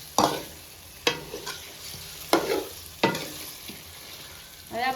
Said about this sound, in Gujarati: હવે આપણે હલાવવાનું છે આપણે આવી રીતના હલાવવાનું છે